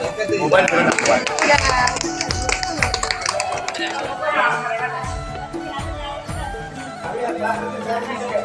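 A group of women claps for their group leader at a gathering, a busy patter of hands over lively crowd chatter and voices, loud and close.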